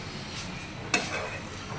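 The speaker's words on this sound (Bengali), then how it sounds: "এবার আবারও ভালোভাবে নেড়ে চেড়ে মশলাটা মিশিয়ে নিব।" Fried fish and spice mixture get stirred in a cooking pan: a soft scraping stir with a faint sizzle, plus one brief utensil clink near the middle, fairly quiet and close.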